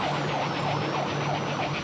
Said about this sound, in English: quickly realizing that flashing lights and sirens aren't going to get this guy to pull over